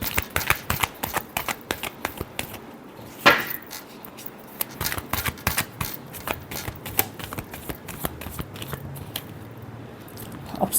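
Tarot cards are shuffled by hand in quick bursts of crisp riffling and slapping, close and clear, with short pauses between runs.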